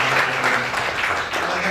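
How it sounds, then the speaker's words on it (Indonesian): A church congregation claps together in a loud, steady burst of applause that fills the hall briefly and evenly. "boleh tepuk tangan banyak."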